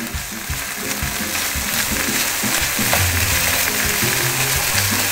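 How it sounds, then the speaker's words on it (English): Ground turkey browning in a frying pan sizzles loudly and continuously, with close scraping and rattling from a utensil breaking up the meat, and no voices. "So you're gonna cook the ground turkey until it's brown evenly"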